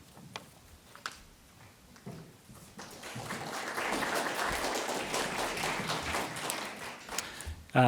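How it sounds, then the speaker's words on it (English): Polite audience applause at an evening art-gallery talk, a soft patter of many hands building after a few scattered claps and holding steadily at moderate loudness. "thank you for the polite applause"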